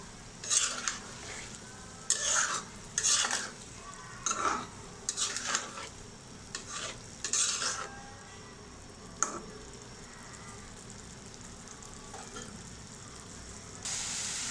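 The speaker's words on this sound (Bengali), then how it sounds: "মশলার সাথে ডিমটা কষানো হয়ে যাক, ডিমটা হয়ে যাক" Eggs being stir-fried with spices and green chillies in a pan for an egg bhuna, a spoon scraping and stirring in repeated bursts over a soft sizzle, close and alone, with quieter gaps toward the end.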